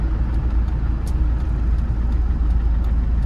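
A 1998 Land Rover Defender 110 with the 300Tdi diesel engine slowing to a stop, heard from inside the cabin as a steady, loud low-pitched engine and road rumble that continues without a break.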